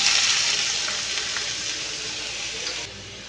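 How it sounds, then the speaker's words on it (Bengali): Onion frying in refined oil in a hot nonstick pan makes a steady, close, hissing sizzle that softens slightly toward the end, with no talking. "ফ্রাই প্যানটা গরম হয়ে গেছে আগে পেঁয়াজটা আমি দিয়ে দেবো"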